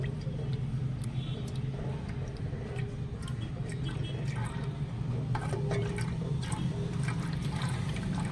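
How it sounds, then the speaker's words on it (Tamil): Lye solution for handmade natural soap pours slowly in a steady, continuous liquid trickle, close and fairly quiet, with a soft background hum and a few small clinks. "ஸோ அதனால் மெதுவாக ஊற்றணும்."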